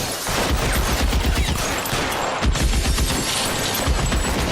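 Rapid gunfire in the detective game L.A. Noire, dense overlapping shots and bursts rattling continuously at high volume with sharp impacts, no voice on top.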